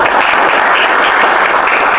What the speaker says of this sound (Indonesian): Oke, beri tepuk tangan buat Anita.